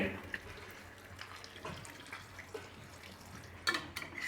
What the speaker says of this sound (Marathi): यामध्ये आपल्याला गरम पाणी गरजेनुसार टाकून घ्यायचं आहे